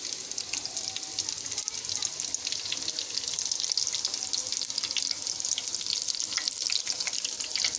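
Chicken rockets frying in hot oil in a pan, a dense continuous crackling sizzle that stays close and fairly loud throughout, with faint scraping as pieces are turned.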